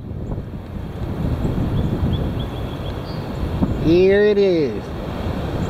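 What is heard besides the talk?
heavy wind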